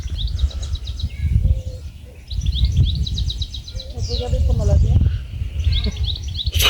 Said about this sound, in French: Une centaine d'oiseaux. C'est pas des corbeaux.